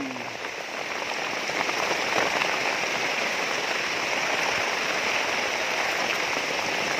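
Heavy rain pours steadily on a mountain farm road, a dense continuous hiss of drops on the surface with no pauses.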